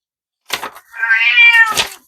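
A cat gives one drawn-out, rising-and-falling meow, close and clear, with short bursts of vocal noise just before and after it.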